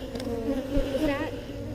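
Many honeybees buzz steadily and close at an open hive in Texas, a dense continuous drone with a few louder passes near the frame being handled.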